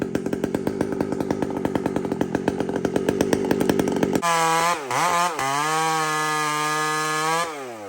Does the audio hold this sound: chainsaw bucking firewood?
yes